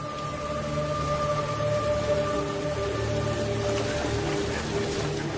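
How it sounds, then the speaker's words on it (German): Heavy rain and storm pour down steadily, a dense, continuous wash of rain on surfaces with a low rumble beneath, loud and unbroken throughout. "da brachen heftiger Regen und Sturm los"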